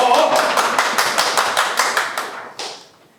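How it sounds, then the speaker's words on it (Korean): A small crowd at a press conference claps in a brisk burst that fades away over a few seconds. "철창 박수로 맞아주십시오"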